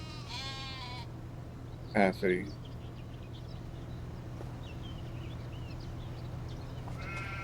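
Sheep bleat in Farming Simulator 25: a wavering bleat near the start, a louder double bleat midway, and another at the end, over a constant low farm hum while someone speaks briefly.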